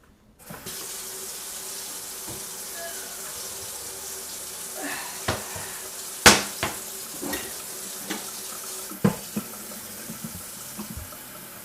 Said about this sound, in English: And then add enough water to cover.